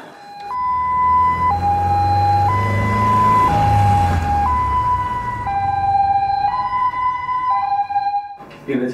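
An ambulance siren sounds in a film scene, loud and close, stepping between high and low tones in a continuous wail for several seconds.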